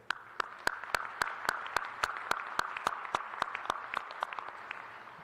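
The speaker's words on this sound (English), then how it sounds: "Please let us give them a round of applause." Steady, sparse applause from a graduation audience at a university spring commencement, with distinct sharp claps in a fairly even rhythm, heard from a distance in a large space.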